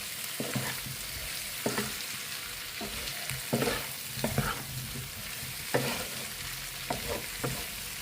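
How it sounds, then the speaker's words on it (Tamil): Potatoes and garlic frying in a pan give a steady, close sizzle, broken by irregular clinks and scrapes of a spoon stirring, with no voices. "இதையும் அந்த உருளைக்கிழங்கோடு அப்படியே சேர்த்து நல்லா ஃப்ரை பண்ணிவிடுங்க"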